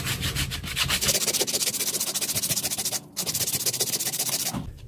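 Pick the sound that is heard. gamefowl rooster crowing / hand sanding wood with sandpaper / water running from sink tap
hand sanding wood with sandpaper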